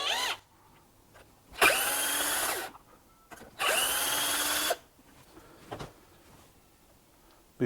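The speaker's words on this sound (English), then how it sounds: "We'll start off by removing these bolts, 2 bolts on the top after we've got this secured in a vise." Power tool spinning out 7mm bolts from a part clamped in a vise, two loud close whirring bursts of about a second each separated by quiet handling clicks.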